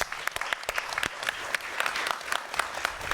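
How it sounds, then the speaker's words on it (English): Scattered applause from an audience at a digital economy conference, individual claps distinct and uneven at moderate volume, steady for a few seconds. "Can we give that a round of applause?"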